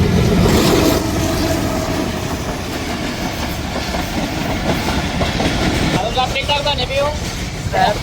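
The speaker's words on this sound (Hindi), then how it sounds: "Train is coming." A train rolls past close by, a loud, continuous rumble with rhythmic clickety-clack of the wagons, and someone speaks over the noise in a village setting.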